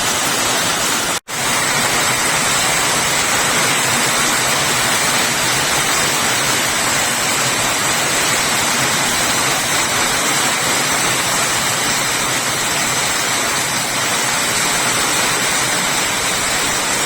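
Heavy rain pours down in a sudden downpour in Kerala, a loud, dense, unbroken roar that fills the clip after a brief gap near the start, with no voices.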